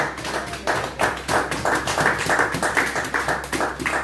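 A church congregation claps in steady rhythm while acclaiming Jesus, sharp close hand claps repeating about twice a second for several seconds.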